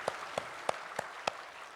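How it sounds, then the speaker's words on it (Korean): A few sharp, separate hand claps from a congregation during a Sunday church service at Daegu Hana Church, five evenly spaced claps that stand clear and close with no talking. "영광의 박수를 하나님께 드리겠습니다"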